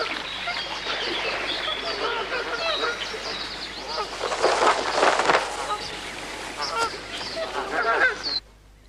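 A flock of trapped geese honks and cackles in a dense, continuous clamor, loud and close, swelling in the middle, with a voice speaking over the birds.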